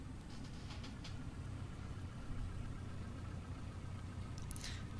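A Cessna 172 piston engine at idle in a flight simulator, a low, steady droning rumble held throughout at an even level, with no talking.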